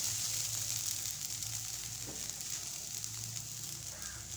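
Chicken bun filling sizzles steadily in a pan as carrots are added, a continuous close frying hiss with a faint low hum underneath and one brief soft clatter partway through.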